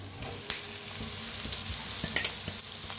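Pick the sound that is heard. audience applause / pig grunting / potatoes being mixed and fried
potatoes being mixed and fried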